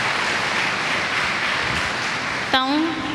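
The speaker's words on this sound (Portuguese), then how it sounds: "pedia-vos uma salva de palmas" An audience at a 2016 religious retreat in Lamego claps in a steady, fairly loud wash of applause, and a brief voice cuts in near the end.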